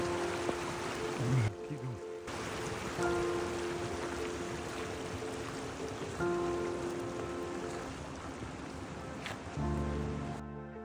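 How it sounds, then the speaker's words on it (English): Steady rain falls on an Alpine hiking trail in Switzerland in late May, a continuous close patter of drops on surfaces with faint voices briefly audible beneath it. "It's raining on us."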